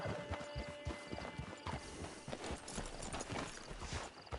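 Horse hooves clip-clop at a steady walking rhythm in the Red Dead Online video game, the close footfalls running continuously with no voices over them.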